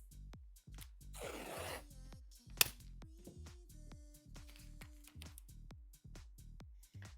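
Adhesive tape pulled from a roll and pressed down while installing an upgrade in a Tesla Model 3/Y front trunk. A sharp ripping burst sounds over steady rhythmic low thumps, with no talking.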